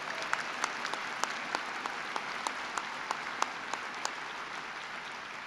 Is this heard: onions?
no